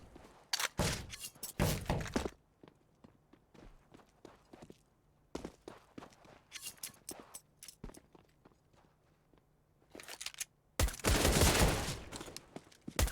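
Gunfire in a Counter-Strike esports match on the Dust2 map: sharp bursts of rapid shots come in clusters separated by quiet stretches, with scattered footsteps and thuds between them, one final burst especially loud and dense.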